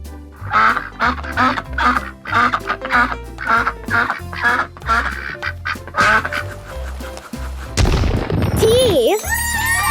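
Duck quacks loudly and repeatedly in a fast, rhythmic series of harsh nasal calls close by, then the sound shifts to other squawking, higher-pitched calls near the end.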